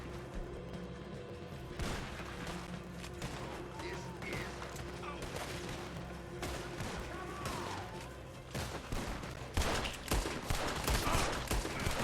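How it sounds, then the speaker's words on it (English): Shotgun blasts in a video game, repeated sharp bangs scattered through a busy stretch of combat noise, fairly loud and frequent, with voices talking in between. "You were shooting them with a shotgun"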